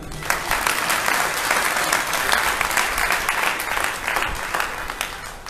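Steady applause from an audience at a Bhagwat katha in a Delhi Gaudiya Math, dense continuous clapping at moderate level throughout, with faint voices underneath.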